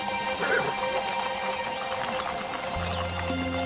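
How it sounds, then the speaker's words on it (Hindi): Horse hooves clip-clop on hard ground during training of the President's Bodyguard ceremonial cavalry, with a steady busy background and a low drone entering near the end; a faint whinny may be present. "रिसालदार मेजर गोकुल सिंह आज भी घोड़े पर शान से बैठते हैं।"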